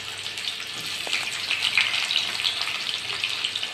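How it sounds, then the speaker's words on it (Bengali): Chopped onions sizzling in hot oil for a Bengali fish dish, a steady bright crackle with small spits and pops, fairly close and continuous with no talking. "পেঁয়াজগুলোকে তেলের মধ্যে একটু ভাজা ভাজা করে নেব"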